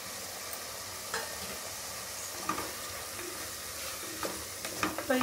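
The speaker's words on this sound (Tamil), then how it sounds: "இதில் வந்து நம்ம கட் பண்ணி வச்ச இந்த பெரிய வெங்காயம் போட்டுக்கலாம்." Large chopped onions, already partly softened, fry steadily in a pan while a spoon stirs them, giving a continuous close sizzle broken by occasional scraping clicks and clatters.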